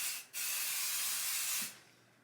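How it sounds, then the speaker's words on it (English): A short puff, then a steady close hiss of spray adhesive from an aerosol can coating an embroidery hoop, lasting about a second and a half before cutting off. "So I'm gonna go ahead and spray my hoop"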